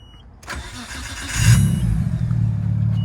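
A Mazda Miata engine with an exhaust valve cranks and fires up, settling into a loud, deep idle with a steady low rumble.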